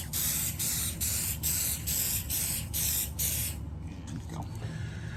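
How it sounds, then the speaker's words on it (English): GluBoost glue accelerator sprayed from a pump spray bottle onto a large wooden piece pore-filled with Fill n' Finish, a run of about seven quick, loud hissing bursts in steady rhythm, close up, followed by quieter handling noise. "give it a quick spray with the accelerator and it'll cure in"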